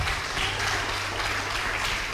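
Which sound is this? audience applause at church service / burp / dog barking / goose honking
audience applause at church service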